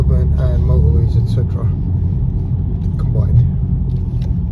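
A 2015 BMW 118i three-door's engine drones as a loud, steady low rumble while the car is driven, continuing beneath a person talking.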